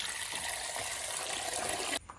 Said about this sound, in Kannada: ಈಗ ನೀರು ಹಾಕಿಡ್ಬೇಕು